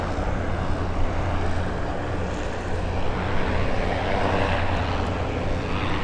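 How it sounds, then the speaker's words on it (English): Goodyear blimp Wingfoot 2 flies at the EAA AirVenture Oshkosh air show. A loud, steady engine and propeller drone continues throughout, broad and unbroken, with no voices heard. "you can see Wingfoot 2 doing a nice chandelle maneuver to work his way back into the show"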